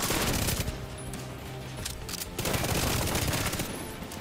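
A deployed turret in a shooting game hammers out a steady, loud stream of automatic fire, sustained bursts with no talking over them.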